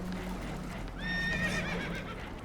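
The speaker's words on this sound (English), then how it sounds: "Horses are spooked, and we're taking on water" A spooked horse whinnies on a boat that is taking on water in the video game Red Dead Redemption 2; the shrill neigh rises clearly over a low rumble of water and motion.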